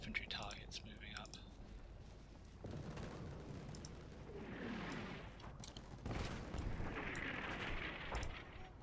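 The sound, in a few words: gunfire from snipers in video game Combat Mission Shock Force 2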